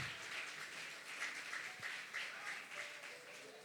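A church congregation applauds during an evening Lord's Supper service, a faint, steady wash of many hands clapping that seems distant and continues without pause.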